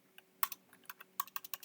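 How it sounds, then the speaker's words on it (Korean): A computer keyboard is typed on in quick irregular bursts of sharp, close clicks, about a dozen keystrokes over a quiet background with a faint electrical hum. "월요일이라고 이렇게 타이핑을 치고"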